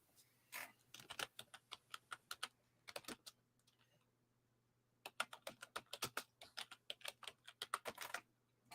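A computer keyboard clatters through fast, quiet bursts of typing, a pause, then a second rapid stretch of keystrokes over a faint steady hum.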